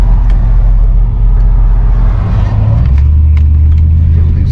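A big 5,000-pound Chrysler Imperial cruises down the road, its engine a steady loud low rumble with road and wind noise filling the cabin, the pitch shifting slightly as it pulls along.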